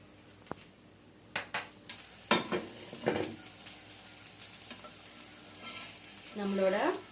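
A dosa frying on a hot pan after oil is poured, with a brief knock near the start, a few scrapes and clinks of utensils, then a swelling sizzle of hot oil toward the end; no one speaks.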